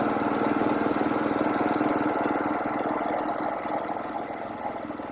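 A sewing machine runs steadily through a back stitch on a quilt block, a continuous motorized whir with a rapid needle rhythm that fades slightly toward the end.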